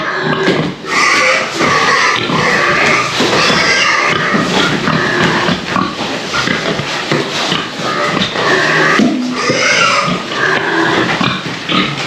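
Pigs grunt and snuffle continuously up close, with loud chewing, crunching and shuffling as they eat apples.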